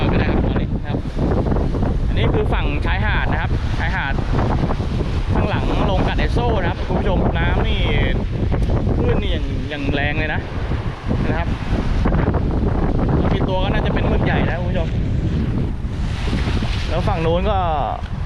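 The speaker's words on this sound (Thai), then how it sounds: "ปรากฏว่า ลมอย่างแรงเลยครับคุณผู้ชมครับ ลมขึ้นแรงนะผมตีไม่น่าได้นะผม" Strong wind at sea buffets the microphone aboard a boat, a loud continuous rumbling roar with waves beneath, while someone talks over it.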